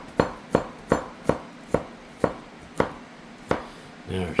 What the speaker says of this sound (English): Let's just mince.